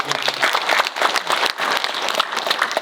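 Forum attendees applaud at a Jirisan peace forum, their brisk clapping loud and close, with slight swells in a short burst that runs about three seconds.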